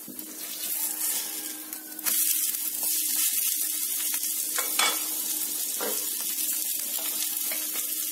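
Ragi dosa frying in oil on a hot pan gives a steady, close sizzle with a brief hiss as more oil is added, plus a few soft scraping touches. No one speaks.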